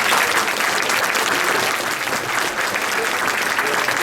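Audience applause at a community charity event full of speeches, a dense, steady wash of many hands clapping that stays loud and even for the whole stretch.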